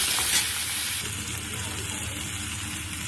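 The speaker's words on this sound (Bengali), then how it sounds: "তেলের মধ্যে দিলে আমটা ভাজা হয় আর সিদ্ধটাও ভালো হয়" Pieces of green mango fry in oil for Bengali sour dal, giving a continuous close sizzle with light stirring sounds throughout.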